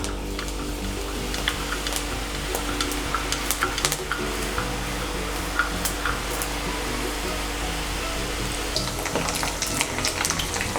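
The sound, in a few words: garlic sev dough frying in hot oil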